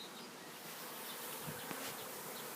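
Bees buzz in a steady, dense drone, close and continuous, with a few individual insects rising briefly above the hum.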